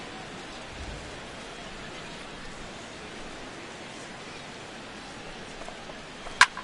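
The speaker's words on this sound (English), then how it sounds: "the rain continues to fall here" Steady rain falls over an open-air baseball stadium as a continuous soft hiss, even and moderately quiet, with a brief sharp knock near the end and no talking.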